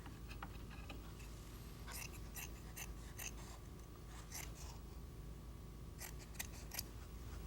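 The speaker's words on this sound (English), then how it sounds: "Do you have better scissors? Those don't seem to be cutting very good." Blunt scissors that cut poorly make a string of quiet, sharp snips and clicks through craft material during an occupational therapy session. The cuts come in irregular bursts against a faint, steady background hiss.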